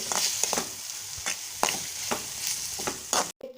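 Bread cubes tossed with masala and salt in a pan, stirred with a spoon in a steady series of scraping strokes over a soft continuous sizzle, close and moderately loud, with no one talking.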